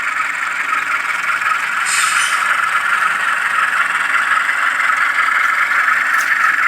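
A Rapido RS 11 model train locomotive gives a steady, whining moan as it reverses, with a continuous mid-pitched drone that stays close and even throughout, no talking.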